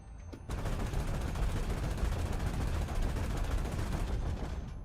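Aircraft guns in War Thunder air simulator battles fire in one loud continuous burst lasting several seconds before cutting off together.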